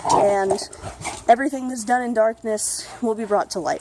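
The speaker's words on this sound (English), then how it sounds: "I'm sorry about the dog noises" A dog whimpers and yips in the background, with high whiny cries weaving under and between a man's steady speech.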